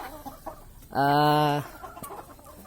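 A free-range village chicken lets out one loud, drawn-out cluck close by, set against faint background noise and quiet voices.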